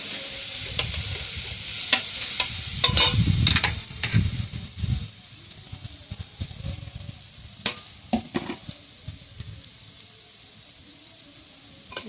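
Freshly grated coconut being stirred in a hot karahi, a scraping and sizzling spatula rhythm with clustered clacks early that thin out to sparse taps and faint frying.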